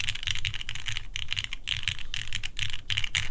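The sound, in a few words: typing on Baionlenja Bias v2 mechanical keyboard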